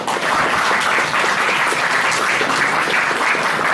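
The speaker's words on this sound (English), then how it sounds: "Please, one round of applause for Donny." An audience at a convention dance competition applauds for a performer, a dense, steady wash of many hands clapping loudly and evenly throughout, with no voices standing out.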